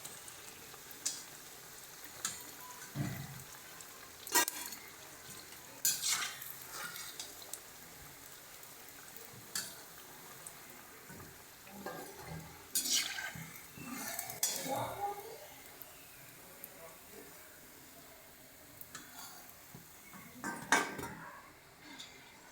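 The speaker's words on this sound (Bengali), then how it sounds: "বড়াগুলো কিন্তু আমাদের খুব সুন্দর লাল লাল করে ভাজা হচ্ছে" Prawn chops sizzle softly in hot oil, with intermittent clinks and scrapes of a spatula and pan cutting through the quiet frying.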